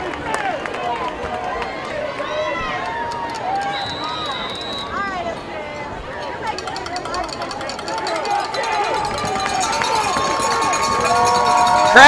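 Spectators at a high school football game between Lakeside Rams and Sylvan Hills, a steady roar of crowd noise and chatter under a play-by-play announcer's talk, swelling slightly as fans rise.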